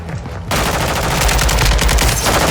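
Rapid automatic gunfire from a Kastov 762 rifle in Call of Duty: Modern Warfare II multiplayer, a loud, dense burst of shots that starts abruptly after a brief quiet moment and continues unbroken.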